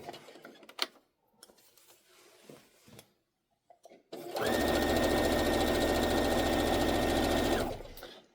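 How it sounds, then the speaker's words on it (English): A home sewing machine stitches a pillowcase, running in one steady, loud, continuous burst for several seconds after a few quiet handling noises. "And now we sew."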